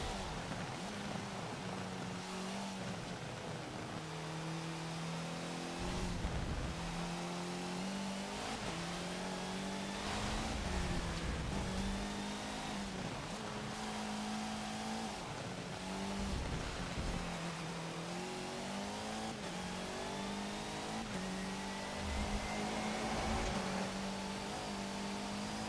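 Rally car engine from Forza Motorsport 7, driven on a track in reverse, revving and shifting steadily for the whole stretch, loud and close, with brief drops and rises in engine pitch as it brakes and accelerates.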